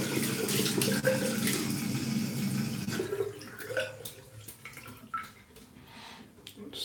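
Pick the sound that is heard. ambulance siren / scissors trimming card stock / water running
water running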